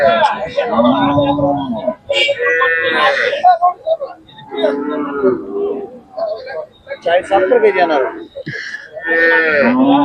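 A Khillar cow moos repeatedly, deep and close, at a crowded cattle market in Sangola, Solapur, Maharashtra, with people talking loudly over and between the calls.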